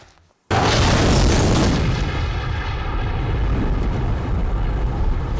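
A grenade in a horror movie goes off with one sudden, loud boom after a brief hush, then a long rumbling roar that slowly fades over several seconds.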